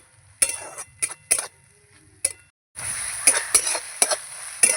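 Spice paste and onions sautéing in a pan for a spicy tengra fish curry: sharp metal spatula clinks and scrapes in irregular bursts, a brief silent gap, then a stronger sizzle with further rhythmic scraping strokes.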